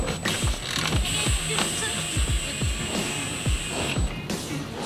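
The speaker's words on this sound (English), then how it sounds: "But just giving it like a quick ratchet" A ratchet tightening a brake part on a 2010 Dodge Caliber, a run of rapid clicking pawl strokes in quick bursts, close and fairly loud with a faint steady tone behind and no talk.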